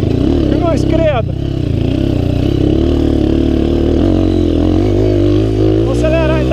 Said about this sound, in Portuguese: Vou acelerar, então.